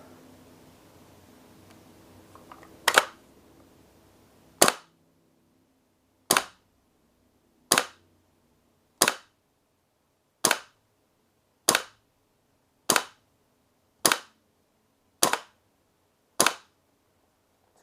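Umarex/VFC UMP gas blowback airsoft SMG fired on green gas with 0.20 g BBs, eleven sharp, loud single shots at a steady pace of roughly one every one and a half seconds after a brief quiet handling rustle.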